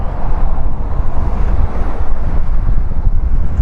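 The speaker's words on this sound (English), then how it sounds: "It's going to be windy. It's windy already" Strong wind buffets the microphone in a loud, steady rumble on a bridge between England and South Wales, with no voices, out in an exposed open space.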